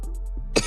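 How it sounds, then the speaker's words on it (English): A single short cough, close and fairly loud, ending a brief quiet stretch of under a second. "am I really coughing that much?"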